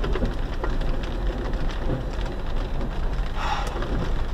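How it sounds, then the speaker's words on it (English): A freak hailstorm with heavy rain and thunder outdoors on a mountain road, a loud, constant roar of pounding rain and hail with scattered sharp impacts and a low rumble underneath. "Oh my word, what a storm."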